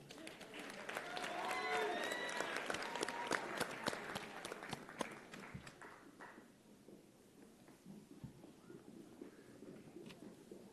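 A graduation convocation crowd gives a round of applause for a group of graduates: dense clapping swells, then tapers into scattered claps amid voices and movement.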